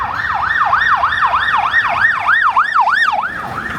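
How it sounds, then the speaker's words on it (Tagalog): An ambulance siren wails in a steady rising and falling cycle, loud and near, stuck in heavy traffic after a road accident. "It's the ambulance."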